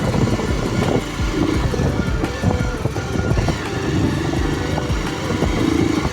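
A motorcycle engine rumbles along with buffeting wind noise, loud and continuous as the bike rides.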